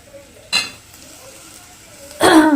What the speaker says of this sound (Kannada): ಇವಾಗ ಫ್ರೈ ಆಗಲಿ.